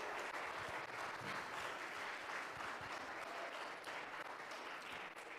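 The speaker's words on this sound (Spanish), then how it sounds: "Dele un aplauso a nuestro Dios" A church congregation applauds during a Spanish-language service, a steady dense wash of clapping with no gaps that stays fairly distant and soft for about five seconds.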